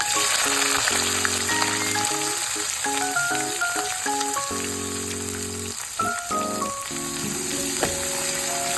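Thinly sliced onions frying in oil with cumin and curry leaves for a tomato meal maker curry, a steady hissing sizzle running throughout, overlaid by a musical melody.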